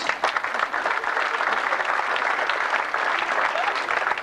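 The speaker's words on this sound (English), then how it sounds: "give these folks a big round of applause" Steady applause from an audience, dense clapping that holds at an even level throughout, fairly close.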